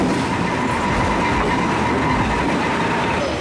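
A first-class train in Vietnam rolls along the rails with a constant loud rumble and faint clatter, heard from inside the carriage without pause.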